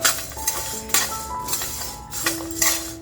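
Metal spoon scraping and clinking against an iron kadhai as homemade spice masala is dry-roasted and stirred, with sharp rhythmic scrapes and clanks over a faint background, no talking.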